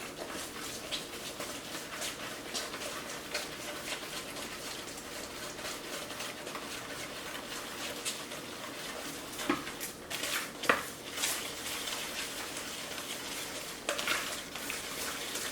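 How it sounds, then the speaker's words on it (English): A whisk scrapes and clinks steadily against a bowl while mixing buttermilk pancake batter, a faint repetitive metallic stirring with a few sharper knocks. "And then we're going to start whisking."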